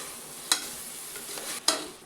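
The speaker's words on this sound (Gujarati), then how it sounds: "હવે આપણે ચોખાને પણ સારી રીતે મિક્સ કરી દઈશું" A spoon stirs rice for masala pulao inside a pressure cooker, with two sharp scraping clinks about a second apart over a soft background sizzle, close up and without voices.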